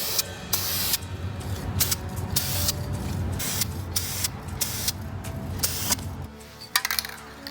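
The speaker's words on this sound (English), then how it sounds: "We're going to add the metal cast spray paint on here" Metal cast spray paint hisses from an aerosol can onto an 80-year-old Manoil toy car inside a cardboard box, several short bursts with sharp starts and stops in a steady rhythm, close and fairly loud with no talking.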